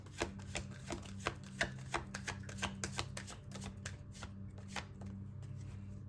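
Tarot cards being shuffled in repeated crisp riffling bursts, a steady run of close, moderately loud flicks with a low background hum and no talking.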